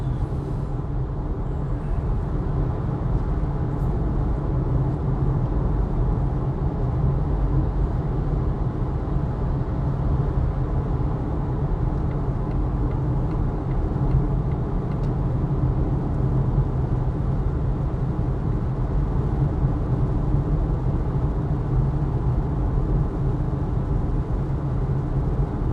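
Steady, even cabin drone inside a Volvo XC40 69 kWh FWD electric car cruising a Swedish highway, with low road and wind rumble that holds constant throughout, and no one speaking.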